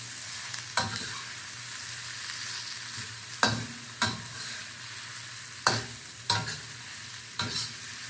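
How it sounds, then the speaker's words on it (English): Onions sautéing in a pan for a vegan mapo tofu with broccoli and mushrooms, a steady close sizzle broken by several sharp utensil scrapes and clacks as they are stirred, with no voices. "So it says saute the onions for 3 minutes, stirring 3 to 4 minutes, stirring often."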